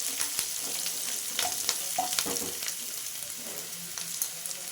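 Onions sizzle steadily in hot oil in a pan for a Bengali onion-greens dish, a close, continuous frying crackle with occasional stirring clicks and no voices.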